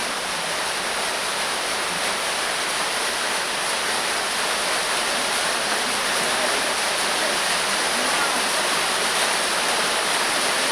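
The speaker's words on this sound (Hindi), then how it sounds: "बारिश जबरदस्त हो रहा है।" Heavy rain pours steadily and loudly for the whole stretch, a dense unbroken hiss with no voices over it.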